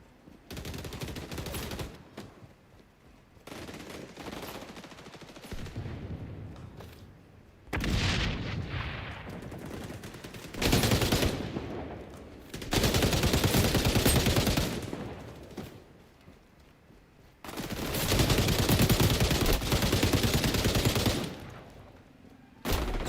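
A deployed turret in XDefiant firing in long automatic bursts, loud and close, with heavy explosive booms and rattling gunfire alternating with short quieter gaps.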